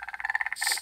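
A frog in the video game Minecraft gives a short rapid croak, a quick train of about ten pulsing chirps ending in a brief hissy note, close and alone.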